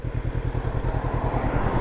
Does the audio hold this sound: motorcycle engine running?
yes